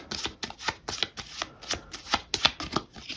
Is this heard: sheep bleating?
no